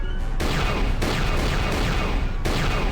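Blasters fire in the Star Wars role-playing game KOTOR II: The Sith Lords, a dense continuous barrage of overlapping energy shots and crackling impacts with several sharp bursts, loud and near, with no voices.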